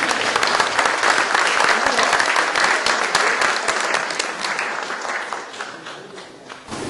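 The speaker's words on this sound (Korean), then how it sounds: "여러분들 큰 박수로 환영해 주시기 바랍니다." Sustained audience applause at an award ceremony, a dense, loud wash of many hands clapping that continues steadily and tapers slightly toward the end, with no voices over it.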